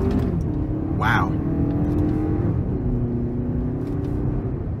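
A 2023 Toyota Highlander Limited turbo with AWD accelerates hard out of a corner in manual sport mode, a steady engine drone rising in pitch inside the cabin, with a brief exclamation from the driver partway through.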